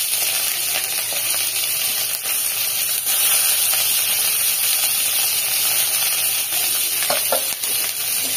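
Sliced eggplant fries in oil in a home kitchen, a loud, steady sizzle and hiss that runs unbroken throughout, with faint stirring clinks near the end.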